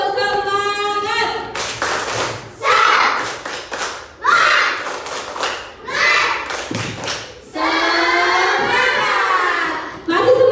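A classroom of students joins in a rhythmic spirit clap, with bursts of clapping and thumps in a patterned sequence broken by chanted voices between the beats.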